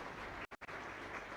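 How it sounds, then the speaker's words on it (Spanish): Loud applause from a church congregation at a Mass in Ñemby, steady and dense, briefly cut by two short dropouts partway through, with no talking. "Fuerte aplauso entonces para el Señor."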